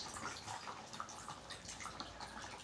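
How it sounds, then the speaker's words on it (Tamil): Filtered tamarind water trickles into a simmering dried-fish curry, a soft, quiet, continuous pouring with faint dripping textures throughout, no talking. "ஸோ புளி தண்ணியே இப்போ நாங்கள் ஃபில்ட்ரு பண்ணி அப்படியே குழம்புல ஆட் பண்ணுறோம்"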